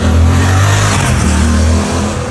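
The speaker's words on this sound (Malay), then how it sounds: "enjin motor ni adalah 270 crank, menghasilkan rumble yang sangat sedap" A Suzuki GSX-8R motorcycle's 270-degree crank parallel-twin engine rumbles loud and close, a deep steady throbbing that eases slightly toward the end, with no talk.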